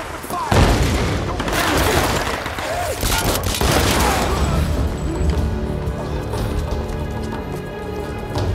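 Sustained gunfire in the game Tomb Raider 2013, dense crackling shots and heavy booms layered over continuous battle noise and music for several seconds, with shouting voices in the mix.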